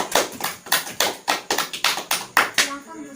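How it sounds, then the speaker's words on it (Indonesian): Applause in a classroom for a student group after its presentation: about a dozen distinct, evenly spaced claps in a steady rhythm, close and fairly loud, a quick burst of hands that ends abruptly. "Berikan tepuk tangan untuk kelompok A"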